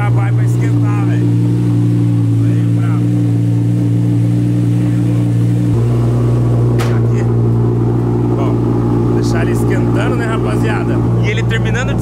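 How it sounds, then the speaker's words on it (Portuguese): An Audi R8 engine idles while warming up, a loud steady drone with a shift in pitch partway through, faint clicks and rustling on top. "Ó, vamos aquecendo aqui esse motor."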